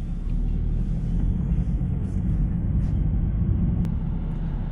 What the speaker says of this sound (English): Driving the R8.